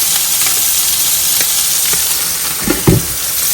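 Pabda fish and chicken frying together in oil, a steady broadband sizzle with a couple of brief louder spatters near the end.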